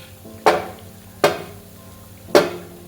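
Three crisp snaps as homemade wheat flour cookies are broken by hand, each a sharp close crack spaced about a second apart against a quiet background.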